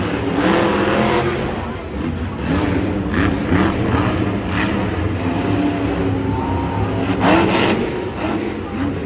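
Monster trucks roaring and revving in a Monster Jam arena show in Denver, Colorado, a loud continuous engine drone with rising and falling pitch, crowd noise and commentary voices layered over it.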